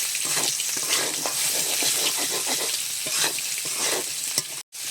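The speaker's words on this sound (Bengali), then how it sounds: "ভেজে রাখা আলু পটলটা দিয়ে দিলাম দিয়ে মশলার সাথে বেশ সুন্দর করে একটু নেড়ে চেড়ে নিচ্ছি" Fried potato and pointed gourd being stirred with spices in a pan, giving a dense continuous sizzle with frequent soft scraping strokes of a spatula, close and without speech, cut by a brief silence near the end.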